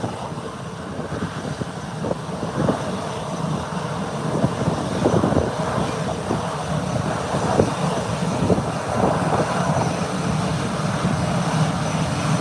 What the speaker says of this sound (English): And American Airlines heading into Miami has now started its journey, taxiing off the ramp, heading into the taxiway right away